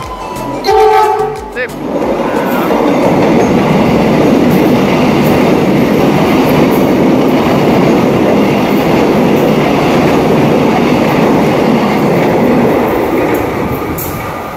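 An electric commuter train on an airport rail line near a former level crossing at Purwosari rumbles past loud and close, a brief horn blast and clatter at the start giving way to sustained wheel and rail roar.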